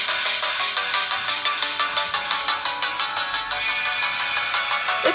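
Music from YouTube plays through the rear speakers of an Oppo A5s smartphone, loud and bright with a steady rhythmic pulse throughout, with no voices over it.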